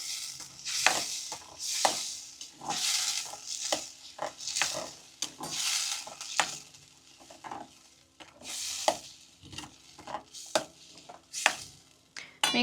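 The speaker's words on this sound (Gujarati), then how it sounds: "હવે બધું મિક્સ કરી લઈ." Spices, including turmeric and coriander-cumin powder, being stirred into a peanut gravy in a pan: rhythmic, close scraping strokes repeating roughly every second, with a soft sizzle underneath.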